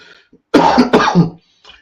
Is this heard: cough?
yes